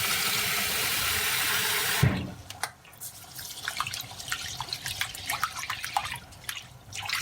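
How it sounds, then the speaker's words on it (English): Rice being washed in a kitchen sink for Egyptian rice with vermicelli: a steady rush of tap water for two seconds stops, then comes close wet swishing and sloshing with scattered drips and small splashes. "first thing we go wash the rice"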